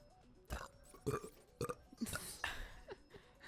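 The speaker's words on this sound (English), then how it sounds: "I hope you guys were prepared for some ASMR burps" Several loud, close burps in quick succession over a few seconds, with game sound faintly beneath.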